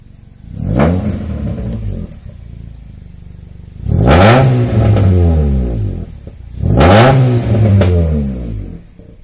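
A Honda Jazz GK5 with a CVT revs hard three times, each loud, close burst climbing in pitch and then dropping away into a rough idle between the blips, with no one talking.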